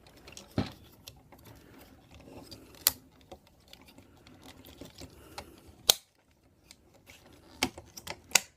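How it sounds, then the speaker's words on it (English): Plastic parts of a Wei Jiang Commander M01 Optimus Prime transformer toy clicking into place during folding, a few sharp isolated snaps spread over quiet handling rustle with no speech. "Then these click into place on here somewhere."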